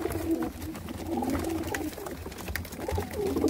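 Close, continuous cooing from a crowd of pigeons held together for sale, soft throaty rolls overlapping in waves that rise and ease, with occasional louder calls breaking through the murmur.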